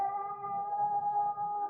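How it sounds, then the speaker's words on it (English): A cat's long, sustained howl in an old-time radio drama, a single drawn-out wavering tone heard alone and fairly close. "Remember, we heard that cat howling the other night."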